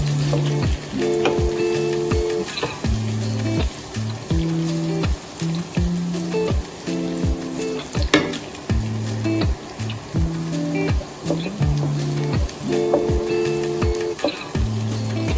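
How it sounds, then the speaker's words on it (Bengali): Peppercorns and a piece of cinnamon frying in hot oil in a pan while making khasir mangsho, a steady close sizzle with repeated rhythmic stirring scrapes and a bright, crackly top, with no talking. "এবার আমি এটাকে একটু ভাজা ভাজা করে নেব"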